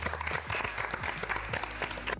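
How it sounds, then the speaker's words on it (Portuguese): Steady applause from a group fills the whole moment, dense overlapping claps with a low hum underneath and a voice faintly present. "palmas pra todos, né?"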